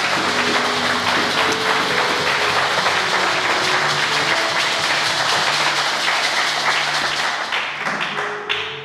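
A church congregation applauding at a sermon, dense sustained clapping from many hands filling the room, steady and loud before tapering off slightly at the end.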